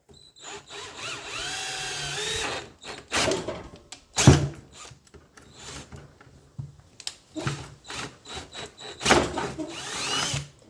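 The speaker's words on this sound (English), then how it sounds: "That plastic gets grabby and it sucks the drill bit in." A power drill whines in short bursts, starting and stopping several times with pauses between, close by, as the bit works into plastic on a John Deere 325 mower.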